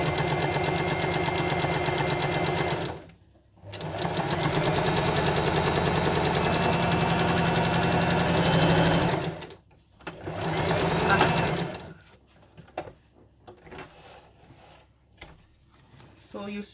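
A home sewing machine runs steadily, stitching forward, stopping, reversing with a lever to backstitch a seam, then going forward again; loud continuous motor whir in bursts broken by short pauses, ending in quieter handling clicks.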